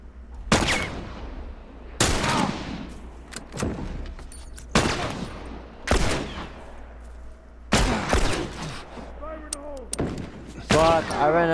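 Gunfire in The Last of Us Remastered: loud, widely spaced single shots with long reverberant tails, about seven blasts, a few quick echoing ones near the end.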